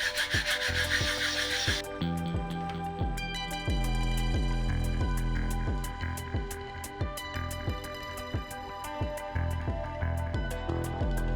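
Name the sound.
sanding a model part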